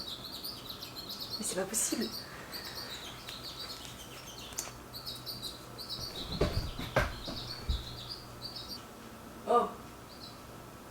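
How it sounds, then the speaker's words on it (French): A small bird chirps repeatedly in short, high tweets over a steady background hum, while someone speaks briefly in French and lets out an exclamation. "ce petit oiseau qui fait que de cuicuiter"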